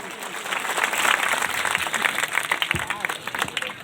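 A village crowd in Thakurtola claps to welcome the chief minister and the minister in charge at a paddy procurement centre event, a loud, busy patter of many hands with some voices mixed in.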